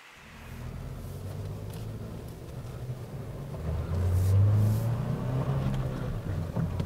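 Idling engine of a 2019 Nissan Frontier base-model pickup with the 2.5-liter four-cylinder and 5-speed manual, a steady low rumble that swells slightly partway through, heard from inside the cab with no talking.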